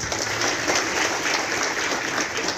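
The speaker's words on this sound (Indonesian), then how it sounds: "Tepuk tangan dulu." Audience applause at an Indonesian radio station's public voter-education event, a dense, steady wash of clapping from a sizeable crowd lasting a few seconds with no talk over it.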